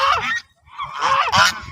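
Geese on a farm give two loud, close honks separated by a short pause, harsh and nasal, the second one longer and rising.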